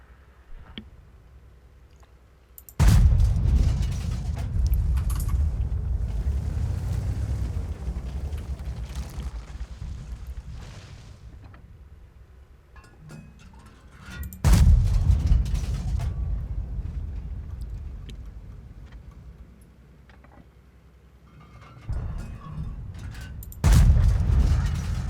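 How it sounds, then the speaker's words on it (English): Tank cannon in World of Tanks fires blind shots: two heavy booming blasts, each followed by a long rumbling decay, with a third quieter blast near the end, loud and close over low mechanical hum. "About to take a blind shot right here."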